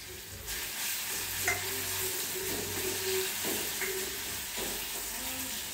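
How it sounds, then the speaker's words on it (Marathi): Ground masala for stuffed brinjals sizzles steadily in a pan, with soft scraping and stirring sounds recurring throughout the close, continuous frying hiss. "तो त्याच्यामध्ये परतून घ्यायचा आहे थोडा"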